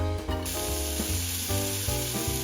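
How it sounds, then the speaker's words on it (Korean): Diced, peeled apple pieces stir-fried in a pan to drive off moisture, giving a steady close sizzle with soft scraping stirs throughout, no voices. "팬에 볶아서 수분을 날려요."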